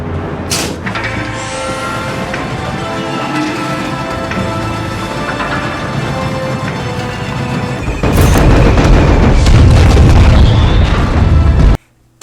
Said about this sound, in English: oh, look at the big explosion!